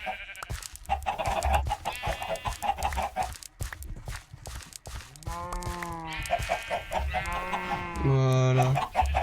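Minecraft chickens cluck and squawk repeatedly at close range, with a rooster-like crow near the end and some background voices mixed in.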